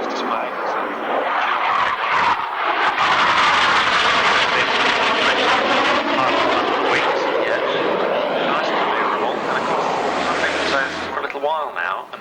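A jet with reheat on its twin outer engines roars loud and sustained as it passes at an airshow, its harsh broadband rumble swelling and then fading, with a voice talking over it.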